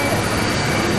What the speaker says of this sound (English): the sound of the aeroplane will just blow your earbuds out